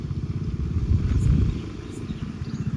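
Motorcycles of a group of bikers arrive at a reservoir gate, their engines rumbling low and pulsing, swelling briefly as one passes closer, then settling back to an idling throb.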